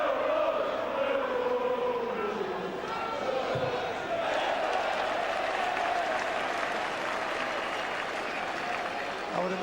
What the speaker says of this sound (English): I would imagine every challenge and every tackle now will definitely be applauded.